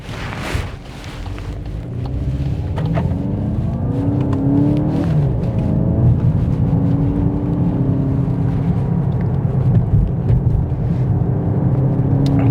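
A car accelerating hard through gears shifted manually with paddle shifters on a desert road near the Oman border, engine rising steadily and loud with gear-change dips, wind noise buffeting throughout.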